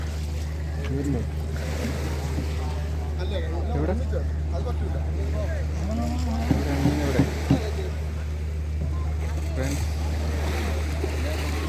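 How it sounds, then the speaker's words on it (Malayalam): A fishing boat arriving at Vizhinjam harbour gives a steady low engine drone with wind and water noise, beneath a crowd of people talking nearby. "അതാ ബോട്ട് എത്തിക്കഴിഞ്ഞു"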